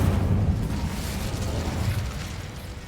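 Incendio fire spell from the Hogwarts Legacy video game: a sustained roaring, whooshing burst of flame, steady and loud throughout with a deep rumbling body, no talking.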